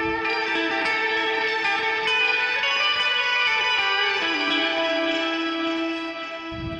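Electric guitar played through a Keeley delay pedal set for octave-shifted repeats, sustained notes and chords trailing into shimmering echoing tails, steady and loud throughout with no talking.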